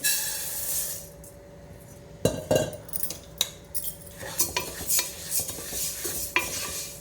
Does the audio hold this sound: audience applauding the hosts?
no